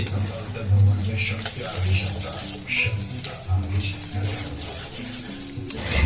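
A spoon stirs and scrapes through a breakfast mixture with Eno in a sizzling pan, a steady close scraping over a low frying hiss, with a voice talking over it.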